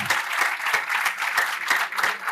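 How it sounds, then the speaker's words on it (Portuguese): Steady audience applause at a WordCamp Portugal conference session, a dense continuous patter of many hands clapping together, fairly loud and close, with no talk over it. "Salva de palmas para o PT Servidor"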